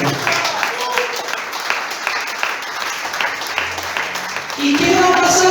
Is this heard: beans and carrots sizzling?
no